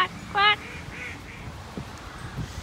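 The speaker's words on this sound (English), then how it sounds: "What does a duck say? Quack, quack, quack." Duck quacks come from close by, one short nasal call followed by fainter honking notes, with a child and an adult talking quietly around them.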